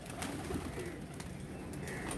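Pigeons coo softly and continuously in the background, a low murmuring flock sound with no voices over it.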